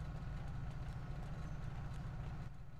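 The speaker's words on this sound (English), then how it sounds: "I love the way the moped sounds." A small moped engine in a GTA role-play game putters with a steady low idle-like drone, close and continuous, without speech.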